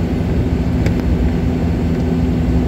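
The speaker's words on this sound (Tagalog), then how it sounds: "Nandoon ang mahingang eroplano." A fixed-wing airplane flying near Clark, Pampanga makes a loud, steady engine drone throughout, with a low rumbling hum and no talk over it.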